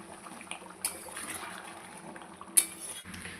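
Meat curry stirred in a cooking pot after a little water is added: light metallic scrapes and clinks of a spoon against the pot, quiet and close, with a couple of sharper taps.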